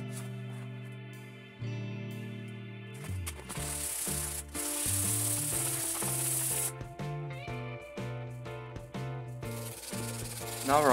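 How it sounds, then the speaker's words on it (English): Sandpaper rubs by hand across a handmade Predator-style knife, raspy scratching strokes in bursts over steady background music, with no talking. "Now sharpen the blade. You could, for example, use a draw knife and sandpaper."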